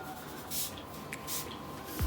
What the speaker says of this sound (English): So simply we're going to go kind of aim it at the scalp and spray everywhere.